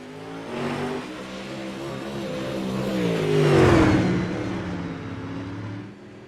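A modified dirt race car engine in a racing game revs and swells, rising to a loud peak before easing off, with a steady mechanical drone and whine throughout and no talking.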